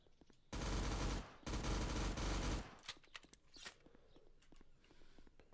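Sustained automatic gunfire in the mafia video game Cosa Nostra: two long, loud bursts of rapid fire broken by a short pause, then scattered lighter shots and clatter trailing off.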